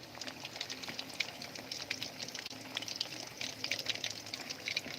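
Pieces of rohu fish frying in hot oil, a continuous soft sizzle with scattered crackling pops, steady and fairly quiet throughout with no talk.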